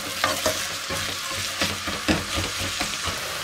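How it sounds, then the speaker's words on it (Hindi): Onions frying in hot ghee give a loud, dense, continuous sizzle, close up, with rhythmic stirring scrapes of a utensil against the pan, and no speech. "इसको चलाते रहिए, प्याज को बहुत अच्छे से क्रमलाइज जब हो जाए तब तक इसको करना है।"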